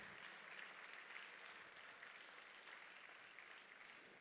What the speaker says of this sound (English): A round of applause for our speaker.